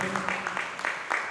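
A congregation claps at an Easter worship service, a rhythmic run of hand claps at a moderate pace that sounds close and fairly loud, with speech underneath.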